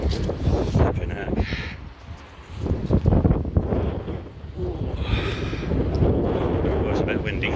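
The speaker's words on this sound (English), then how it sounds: "Oh, it's a bit windy." Gusty wind blows at the demolition site of the Derby asylum, buffeting the microphone in loud, rumbling surges that rise and fall throughout, with faint voices mixed in.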